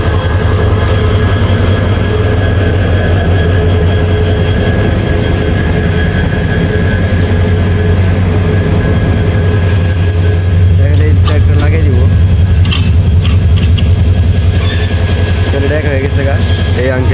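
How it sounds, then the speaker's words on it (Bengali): A passenger train being shunted to change tracks rumbles loudly and steadily close by, with metallic wheel squeals and clanks rising midway and voices talking faintly underneath. "কীভাবে ট্রেনের লাইন পরিবর্তন করে আর ট্রেনের পিছনের মাথা সামনে আনে"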